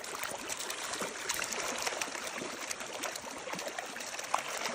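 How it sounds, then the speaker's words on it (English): A river flows steadily as a lamprey is released into it, a faint, continuous rush and trickle of water with small splashes close by. "releasing the lamprey into the river"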